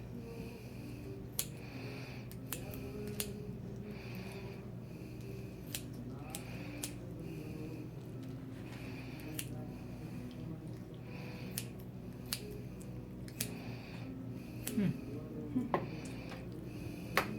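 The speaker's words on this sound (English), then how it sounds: "I just simply take my scissors and go right along the bone" Repeated sharp crunching snips of kitchen scissors cutting along a chicken thigh bone, spaced irregularly over a quiet background with a low hum.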